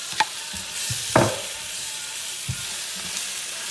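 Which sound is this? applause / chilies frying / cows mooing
chilies frying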